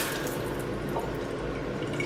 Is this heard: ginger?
no